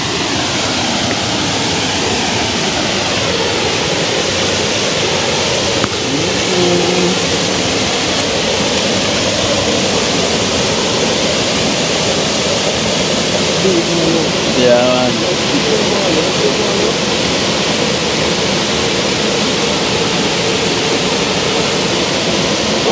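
A waterfall and river in Jamaica rush with a constant broad roar of falling and running water, close and loud, with a few voices talking over it.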